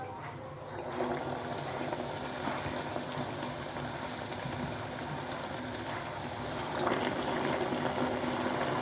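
Chocolate-filled bread buns frying in hot oil, a steady bubbling sizzle that runs continuously, with a brief sharper crackle near the end.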